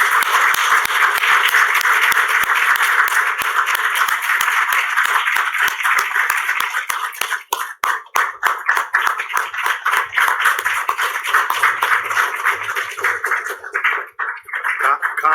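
Congregation applauds in a church service as a pastor and his wife come forward, a dense, steady wash of clapping that thins and breaks up toward the end.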